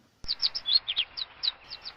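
Small birds near a river give a quick series of high, bright chirps and tweets, close and clear against a quiet background, beginning abruptly after a short silence.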